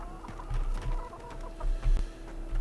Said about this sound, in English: Hey there, chickens.